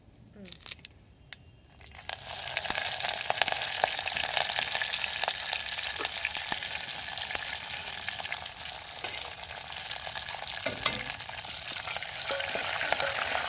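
Spices for a tadka hitting hot oil over a pot of pappu charu, a loud dense sizzle bursting in after a couple of quiet seconds with crackling pops, then a steady hiss continuing close up.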